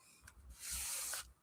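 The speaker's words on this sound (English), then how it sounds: "I'm going to pick up the mica spray that has not dried yet" A burst of mica spray hisses onto a mixed media craft piece, one close, sustained spray lasting about half a second, preceded by light rubbing and handling sounds.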